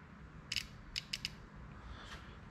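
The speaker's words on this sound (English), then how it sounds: "You could hear it clicking around with that power wire on." Four or five sharp mechanical clicks from a Kawasaki Bayou 220 ATV electric starter with a loose power wire come in quick bursts, close and distinct, over a quiet low hum with no voices.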